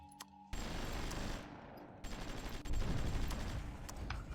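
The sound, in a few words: shore bombardment gunfire in the video game Supremacy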